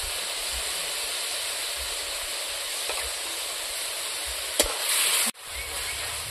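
Spice paste with turmeric and salt fries in a pan for a village-style bata fish and cabbage red curry, giving a constant close hiss and sizzle with a brief clatter near the end.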